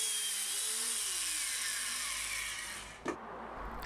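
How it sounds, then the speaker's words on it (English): An 8mm bit in a doweling jig drills into wood for garden planters, a steady close whine that fades out, followed by a short knock. "You just line it up on the mark you've made and then it drills holes either side of it."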